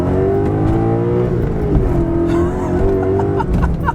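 The engine of a high-mileage BMW M5 drones steadily and close while the car is driven, its pitch dipping and rising slightly as it moves through gears.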